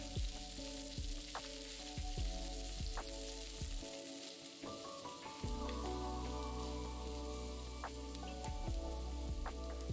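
Dried red chillies, curry leaves and sliced shallots sauté in a pan, a continuous crackling sizzle with scattered spatter pops and occasional spoon knocks on the pan, steady and close, with a short dip midway.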